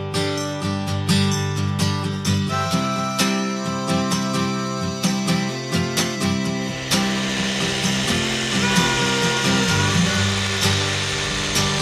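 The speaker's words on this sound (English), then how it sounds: "Yeah, we finished up in the dark drilling these holes." A power drill bores holes into the base of a grain bin, repeated short drilling bursts in a steady rhythm, loud and close, layered over a continuous busy background with no talk.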